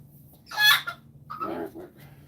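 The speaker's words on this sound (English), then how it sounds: "Bantam, little tiny chicken." A small bantam hen clucks in two short, close bursts: first a sharp, bright squawk, then a lower run of clucks, with quiet pauses around them and no talking.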